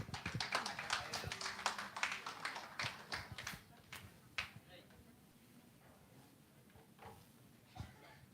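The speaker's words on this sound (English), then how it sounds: "a very big applause." Conference audience claps for the speakers: scattered, fairly sparse hand claps from a modest crowd, loudest at first and thinning out into a few isolated claps, heard at a distance and fairly quiet.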